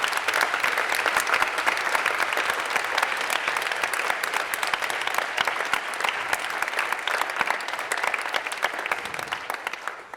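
A packed assembly hall of spectators at a regional high-school eloquence contest final breaks into sustained, dense applause, loud and even for ten seconds with crowd murmur beneath, fading slightly at the end.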